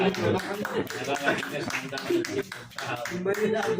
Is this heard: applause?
yes